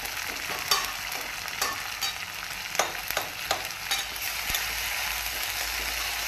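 Ginger garlic paste, about two and a half spoonfuls, sizzling and frying hard in a pan of browned onions for a fish-head muri ghonto. The steady hiss carries crackles and pops throughout, with no one speaking over it.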